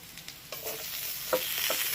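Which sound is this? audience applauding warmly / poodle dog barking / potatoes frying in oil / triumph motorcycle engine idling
potatoes frying in oil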